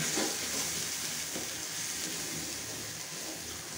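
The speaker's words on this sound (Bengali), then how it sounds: "এই তো এই মশলা কটা এখন একটু কষিয়ে নেব।" Ground spices with coriander and turmeric powder sizzle steadily in a hot pan for a Bengali Bele fish curry with green peas and potatoes, a continuous close hissing fry with no talk.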